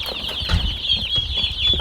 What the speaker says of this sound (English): Meat birds look good.